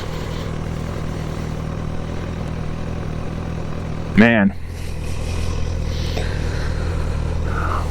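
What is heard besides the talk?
Honda CB1000R motorcycle engine with quiet stock exhaust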